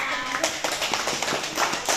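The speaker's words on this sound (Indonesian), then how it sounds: "tepuk tangan dong buat Ibu Edda" A small group at a psychiatric nursing therapy session gives short, scattered applause to Ibu Edda, with loose, close-up claps and faint voices mixed in.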